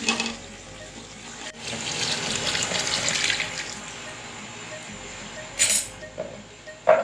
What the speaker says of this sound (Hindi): तमाम यखनी मैंने इसके अंदर ऐड कर दी है।